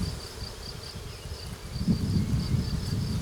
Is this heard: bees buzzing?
yes